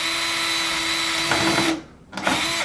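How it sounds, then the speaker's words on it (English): A power drill whines loudly and steadily up close while drilling pilot holes into the grommets of a kiosk stand's template skirt, briefly cuts out and slows, then spins up again. "you'll now be drilling pilot holes into the grommets of the template skirt"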